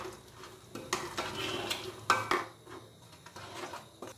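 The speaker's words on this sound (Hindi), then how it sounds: "अच्छे से हम इसको मिक्स करेंगे।" A spoon stirs beef curry in a metal pot, scraping and clanking in irregular strokes over a soft simmering sizzle, close and moderately quiet.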